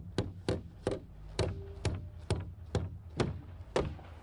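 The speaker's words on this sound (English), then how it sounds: "we're going to be nailing into the center hole in line with our roof stud" Hammer driving a nail into a roof stud, nine sharp, evenly spaced woody blows in a steady rhythm, close and distinct.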